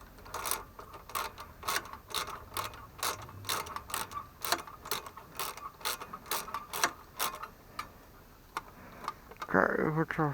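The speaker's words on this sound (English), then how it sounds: "we're going to tighten this one up now" A ratchet wrench tightens a bolt on the Tecumseh Snow King carburetor of a 5 hp Craftsman snow blower, giving a close, steady run of sharp clicks with brief pauses and a louder rattle at the end.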